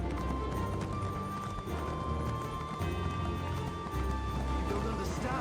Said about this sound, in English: let's just ride our horse up there